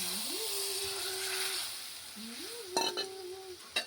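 A loud hiss rises as cow's milk is poured into hot oil for a prawn malai curry, fading slowly, with a few sharp metallic clinks of a utensil near the end.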